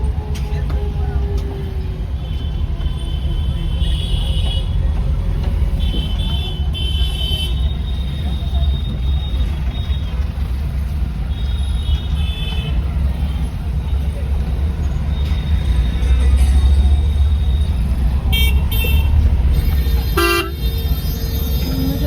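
Dense traffic jam on rain-soaked city roads on a Sunday evening, car horns tooting repeatedly through steady engine rumble, with someone talking over the noise from inside a stopped van.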